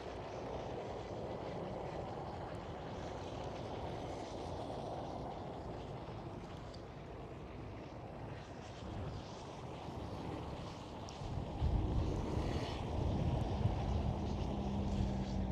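An Icelandair Boeing 757 departs at Schiphol with a distant, steady jet roar that swells into a louder, deeper rumble near the end, with no voices.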